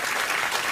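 Dense applause from a studio audience fills the moment, a steady broadband wash of many hands clapping at once with no voices over it.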